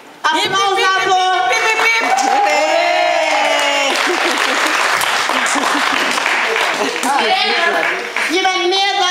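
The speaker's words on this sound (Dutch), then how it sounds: "Applaus daarvoor." Audience at a Mantelzorg (caregivers' day) celebration in Holendrecht, Amsterdam Zuidoost breaks into loud, sustained applause lasting several seconds, mixed with crowd noise and voices talking over it.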